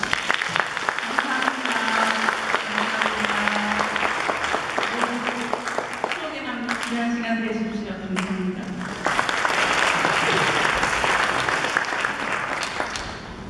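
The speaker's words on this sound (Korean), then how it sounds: "이 시간 다시 한번 머리를 숙여 큰 박수로" Church audience clapping to welcome the deacons, sustained applause through most of the stretch with a sung or spoken voice carrying tonal lines over the middle, then the clapping swells again toward the end.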